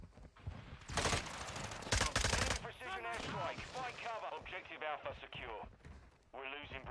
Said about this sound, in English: Enemy precision airstrike. Find cover.